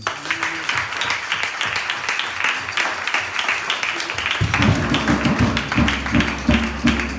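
A church congregation claps steadily and rhythmically, dense and close, the clapping swelling fuller partway through as more hands join in, with a faint murmur of voices beneath.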